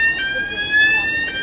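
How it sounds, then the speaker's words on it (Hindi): Security checkpoint alarm at Lucknow's Amausi airport Terminal 3, a loud steady electronic tone with stacked pitches sounding continuously close by, a voice speaking over it. "अलार्म डिटेक्टेड है"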